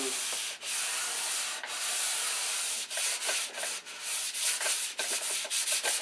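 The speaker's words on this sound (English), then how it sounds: "So we want to get that basically all sanded off and have it real smooth." Sandpaper rubs primer off a model airplane, likely an Electric Thunderbolt. Close, continuous scratchy strokes run throughout, speeding into short rhythmic passes toward the end, with no talking.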